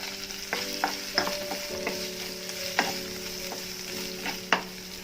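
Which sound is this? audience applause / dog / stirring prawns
stirring prawns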